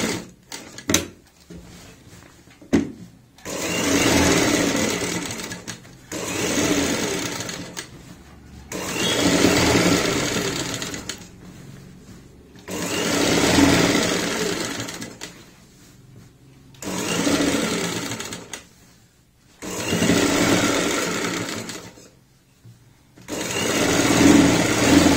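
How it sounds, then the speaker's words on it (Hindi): A sewing machine stitches along a kurti's boat neckline in repeated bursts of steady whirring, each a few seconds long, separated by short quiet pauses, heard close and alone. "इस पे भी हम यहाँ पे सिलाई लगा लेते हैं।"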